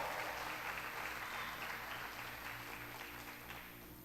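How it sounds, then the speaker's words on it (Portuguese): Sustained audience applause at a church conference fills a large hall, a dense wash of clapping that holds steady and slowly fades toward the end, without speech over it. "Você pode aplaudir a Jesus aí?"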